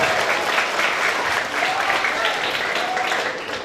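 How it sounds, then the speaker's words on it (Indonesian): Crowd of participants at a school orientation event clapping hands together, a loud, dense, continuous burst of applause lasting throughout with some voices mixed in. "Tepuk tangan dulu."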